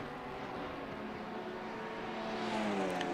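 Alpine race cars in a racing video game on the Nurburgring, a continuous high buzzing engine drone with layered whining tones that swell slightly toward the end, no talking.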